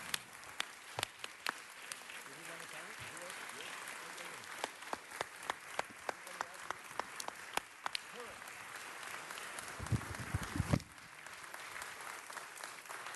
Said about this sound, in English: I'm going to ask for another applause for our great CLA, Jerry Miller.